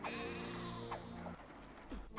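Sheep bleating in the city-building game Caesar 3: a couple of faint, wavering bleats over a quiet ambient hum, with a longer drawn-out call at the start.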